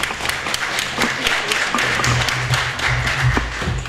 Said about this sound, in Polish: Jeszcze raz wielkie brawa i gratulacje.